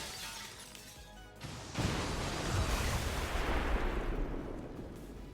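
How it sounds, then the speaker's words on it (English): Explosion in the XCOM 2 video game: a sudden crashing blast with shattering debris that erupts after a brief lull and rumbles on, dense and loud, slowly fading over several seconds. "Little explosion, never hurt anyone."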